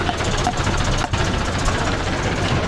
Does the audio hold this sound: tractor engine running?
yes